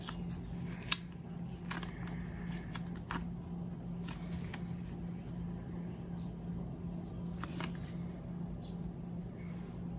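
Scissors snip through paper several times, short crisp cuts spaced irregularly over a steady low hum in a quiet room.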